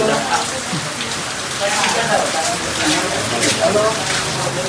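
Rain patters steadily on a surface nearby, a dense, even drizzle of drops with faint voices murmuring underneath, outdoors near a newly drilled borewell.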